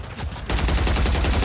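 A revolver in a shooter game fires in a burst of loud gunfire that starts abruptly after a brief quiet lead-in, then continues as dense rapid shots with low booming weight.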